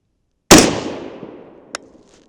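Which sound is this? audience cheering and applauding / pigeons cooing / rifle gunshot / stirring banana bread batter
rifle gunshot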